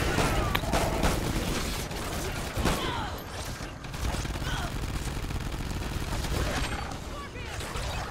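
Sentry guns in the video game Extinction Point of Contact fire in rapid automatic bursts amid chaotic battle noise, with people talking over the constant shooting.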